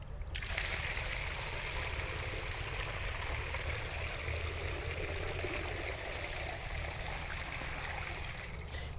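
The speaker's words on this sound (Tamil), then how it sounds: "அந்த மண் நல்லா நனைகிற வரைக்கும் அதிக அளவு தண்ணீர் விடணும்" Water pours steadily onto the soil around a newly planted fruit plant, a continuous, even splashing trickle that runs without a break under a low rumble of wind.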